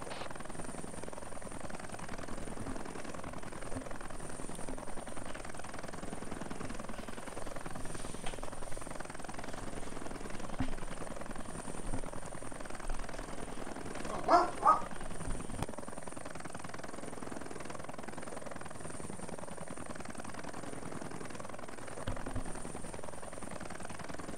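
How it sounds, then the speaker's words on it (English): A military helicopter's rotor and engine during a training flight make a steady, loud drone throughout, with radio chatter and voices talking over the constant noise. "Gunfighter 1-1 has red main rotor, so he has to do an emergency landing"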